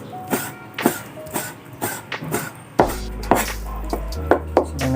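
Knife chopping beef into small strips on a cutting board for Filipino pinapaitan, a series of sharp, fairly close thuds in an uneven rhythm, about a dozen cuts with brief pauses between.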